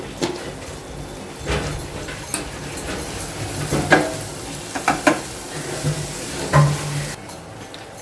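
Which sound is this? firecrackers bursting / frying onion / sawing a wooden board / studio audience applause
frying onion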